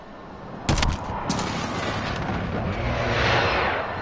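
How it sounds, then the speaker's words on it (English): Precision airstrike explosions in the Modern Warfare video game, a sharp near blast followed by a few more booms and a long rolling rumble. "Enemy precision airstrike"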